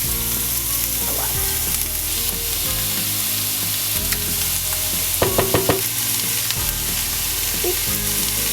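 Onions brown in a pan for spaghetti bolognese, a loud continuous sizzle close up with a brief burst of clattering stirring midway, and no talking.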